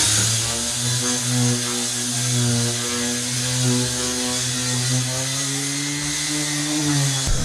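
A power sander runs on fiberglass with a steady, loud, motor whine holding a sustained tone that shifts slightly in pitch as pressure changes, continuous for several seconds and then cutting off at the end, with no talking.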